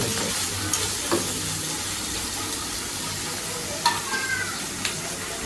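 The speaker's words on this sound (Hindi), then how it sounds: "प्याज को हम लोग हल्का सा ब्राउन करेंगे।" Onions lightly browning in a pan for mutter paneer bhurji give off a steady, even sizzle, broken by a few soft clicks and stirring knocks.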